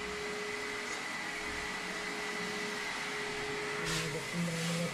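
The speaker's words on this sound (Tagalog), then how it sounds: "Vacuum na naman natin doon." A vacuum cleaner runs during a household general cleaning, giving a steady, even drone with a thin whine throughout and a slight rise in intensity near the end.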